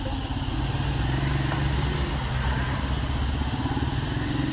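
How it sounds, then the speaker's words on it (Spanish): Motorcycle and car engines idle together at a private vehicle collection, a steady low throb up close that holds constant throughout. "Muchas motos."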